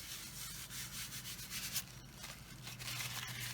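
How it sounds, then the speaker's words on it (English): Excess ink being wiped off a silicone crafting mat, a close soft rubbing and scuffing in quick repeated strokes, steady throughout without speech. "wipe off any excess on my silicone mat so that I don't get it onto my card"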